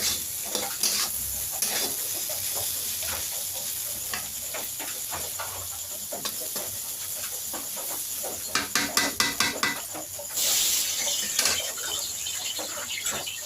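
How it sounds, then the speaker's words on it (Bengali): Oil sizzling and spitting steadily in a pan on a gas or clay stove before onions are added, a continuous hiss with scattered crackles and a louder burst of sizzle near the end. "তো এই যে দেখো তেল ঢেলে নিলাম, এরপর পেঁয়াজ দিয়ে নেবো।"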